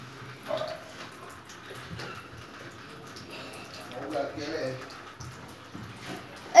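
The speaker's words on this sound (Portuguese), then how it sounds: "o gatinho tomando água na torneira de casa." Water trickles from a household tap while a cat drinks. The flow is faint and continuous, heard under people talking nearby.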